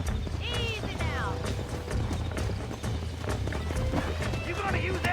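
A horse in the video game Red Dead Redemption 2, its hooves clopping and a whinny rising over game music and ambience while someone talks throughout.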